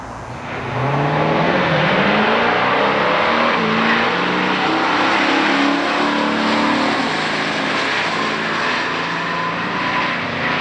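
A 1978 Chevrolet Camaro Z28 and a 1970 Plymouth GTX in a factory stock drag race, loud V8 engines revving and accelerating hard down the strip, with rising engine pitch sustained over about ten seconds, no talk.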